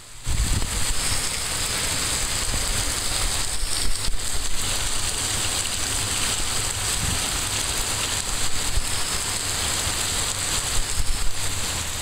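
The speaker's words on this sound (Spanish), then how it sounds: "Sigue lloviendo." Steady rain falls continuously in Chihuahua, Mexico, a dense even patter on surfaces with no voices, holding a constant level throughout.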